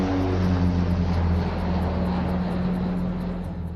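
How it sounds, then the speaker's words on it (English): A fixed-wing airplane on landing approach, breaking out of clouds with the runway in sight: a loud, steady engine and propeller drone that fills the whole stretch and eases slightly toward the end. "As the plane breaks out of the clouds, the runway's in sight."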